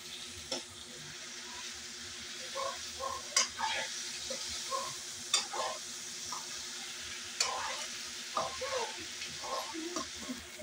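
Fried potatoes are stirred into adobo with onion, garlic and ginger in a pan, a soft sizzle broken by repeated clinks and scrapes of the utensil, with a faint voice at moments.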